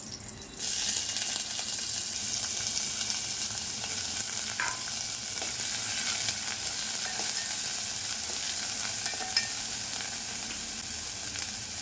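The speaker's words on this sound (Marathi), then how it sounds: "आता याला ना सॉफ्ट होईपर्यंत कुक करायचं आहे आपल्याला" Snake gourd fries with garlic and cumin in a pan. A strong sizzle bursts in after a brief quiet start and holds steady, with occasional light stirring scrapes and no voices.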